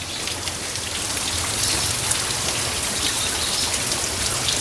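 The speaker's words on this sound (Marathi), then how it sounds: "हा पाऊस बघायला किती मजा येतो गावचा" Steady heavy rain pouring down on and around a village house, a dense, continuous patter of drops hitting surfaces with no voices.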